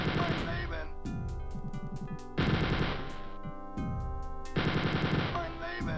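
Gunfire in Half-Life: Chemical Warfare: repeated bursts of rapid automatic shots with short pauses between volleys, loud and close, with a voice talking over it.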